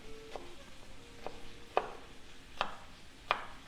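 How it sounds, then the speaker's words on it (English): A knife chops big garlic cloves into coarse pieces on a cutting board, giving a few sharp, separate thunks spaced about a second apart against a quiet kitchen background. "So your big garlic clove like that, just cut them into big pieces."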